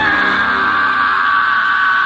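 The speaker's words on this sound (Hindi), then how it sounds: "तभी उन्हें राकेश के चिल्लाने की आवाज आई" A man's loud, sustained yell used as a horror-story sound effect, one continuous cry of about two seconds with no talking over it.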